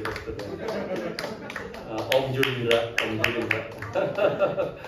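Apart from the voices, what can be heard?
audience applause in church service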